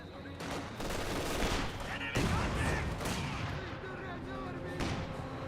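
Gunfire and explosions from a Company of Heroes 2 battle with grenadiers under fire, a dense continuous barrage of shots and blasts at steady loudness throughout, mixed with game effects.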